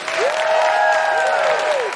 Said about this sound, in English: Could we have a big round of applause for Christie Watson?